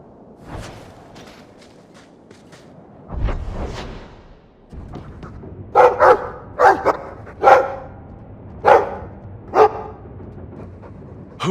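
A dog in the video game Dragon Age 2 barks in a run of loud, sharp yaps spaced about a second apart, preceded by soft footsteps and a whooshing movement sound.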